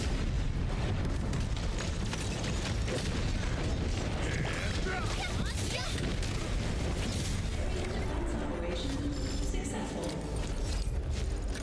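Grenade tower explosions and turret fire in the video game Arknights: Endfield form a dense, loud, unbroken wall of booms, pops and mechanical clatter, with someone talking over the game sound.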